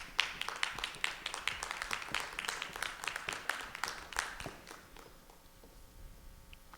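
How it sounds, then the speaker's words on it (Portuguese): A conference audience applauds panel speakers as they take the stage, a dense burst of clapping for about five seconds that thins out and fades into quiet room noise. "Recebam elas com um aplauso"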